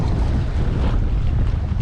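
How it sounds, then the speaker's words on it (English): Strong, steady wind roars and buffets the microphone outdoors on a bass fishing outing, a dense low rumble with no letup for the whole couple of seconds. "It's so freaking windy."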